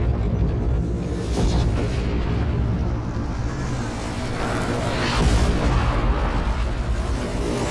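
An artillery shell explodes to the left with a heavy, dull boom amid a constant roaring rumble in Afghanistan; a second blast follows a few seconds later.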